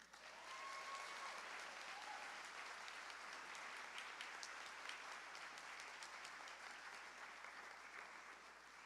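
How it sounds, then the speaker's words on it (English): Sustained applause from an audience at a college all-employee meeting fills the whole stretch, broad and steady, with no voices over it. "Round of applause."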